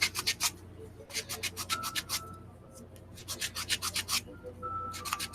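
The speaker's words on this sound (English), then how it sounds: "See, I'm going at it with the coarser grit," Coarse grit sandpaper rubbed on wood at a workbench, a series of close, rasping back-and-forth strokes in uneven bursts with short pauses between.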